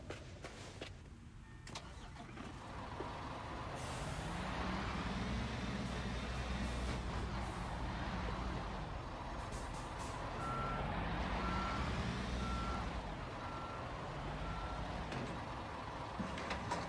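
A truck reversing in a road-building construction simulator video game, its engine droning steadily and rising and falling while a faint, regular backup beep repeats in the background.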